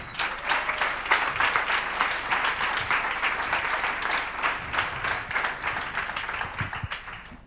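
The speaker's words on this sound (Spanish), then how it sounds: "Creo que se merece un gran aplauso." An audience applauding at the closing of a festival in Barcelona, sustained dense clapping with scattered sharper claps standing out, fairly even in loudness throughout, no speech over it.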